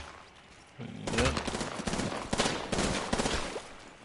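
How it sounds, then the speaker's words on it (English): Video game gunfire aimed at the players, a burst of shots and rapid firing that starts about a second in and runs loud to the end, with voices talking over it. "Thanks for shooting at us."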